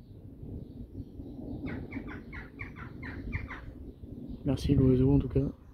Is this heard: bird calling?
yes